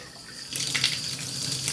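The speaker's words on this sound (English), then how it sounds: "I'm gonna test the tap here." Water runs steadily from a Moen tub and shower tap just after a leaky valve repair, a broadband hiss that swells after a quiet start and holds fairly loud and close.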